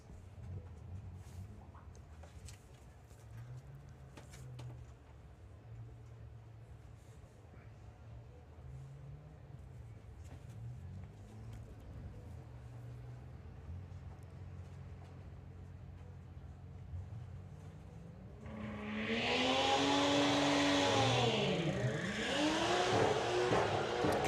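A drag racing car at Santa Pod Raceway during Bug Jam rumbles faintly in the distance, then roars loudly in the final seconds as its engine revs hard, with people talking nearby.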